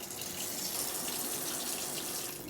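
Water runs steadily from a kitchen sink tap, a close, even, hissing gush with no voices.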